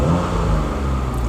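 A Rover car engine with a fault idles and runs close by, a steady low rumble with a slight revving swell and no voices.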